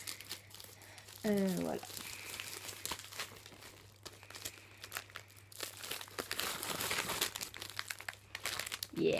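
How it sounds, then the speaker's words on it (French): Two parcels are being opened, with crinkling plastic packaging, crumpling and tearing sounds coming close and at moderate volume, some ripping bursts in between. A voice speaks briefly. "Donc aujourd'hui, j'ai deux paquets. Je vais les ouvrir avec vous."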